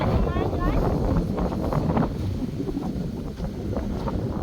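Steady wind blowing outdoors in the evening in a rural home vegetable garden, a continuous broadband rush that holds loud and close to the microphone for the whole stretch, with faint voices and activity underneath.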